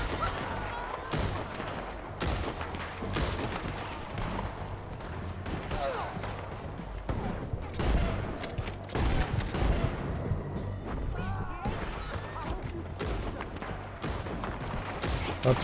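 Gunfire in the Red Dead Redemption II video game on PC, with repeated shots and bursts scattered throughout amid constant game noise and music, while players talk over it.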